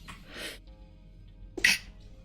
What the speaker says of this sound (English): Ah, I'm gonna sneeze.